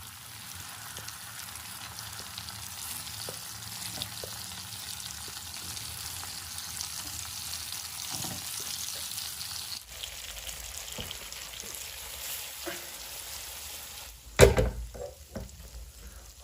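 Eggplant curry with masala and curry leaves cooking in a pan, a continuous soft sizzle and frying hiss throughout, ending with a brief louder clatter near the close.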